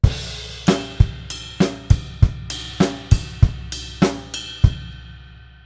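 Drum kit playing a two-bar groove, with ride bell, snare and bass drum struck in a steady syncopated pattern of about a dozen crisp close hits, no voices, ending on a decaying ring.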